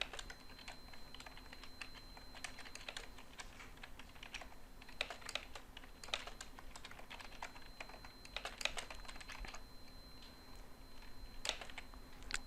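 A file name being typed on a computer keyboard: quick bursts of close keystrokes clicking in irregular runs with short pauses, over a faint steady electrical hum, no voices.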